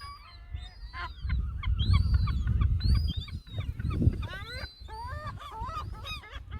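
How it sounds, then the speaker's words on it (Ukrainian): Gulls call on the Isle of May, a chorus of harsh, repeated squawks and cries from several birds, some close and loud, under a low background rumble, with faint talk mixed in. "Такі звуки, правда, кожен ранок майже під вікнами, під балконами чути цих чайок."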